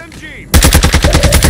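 Rapid automatic gunfire from a Call of Duty Warzone match on Ashika Island bursts in loud and close after a brief quiet lead-in, a dense run of sharp shots filling the rest of the moment.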